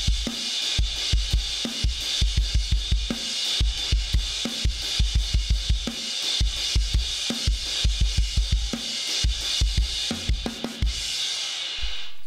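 A drum kit plays a steady instrumental groove, punchy kick and snare hits repeating in a two-bar pattern with constant hi-hat wash, loud and close.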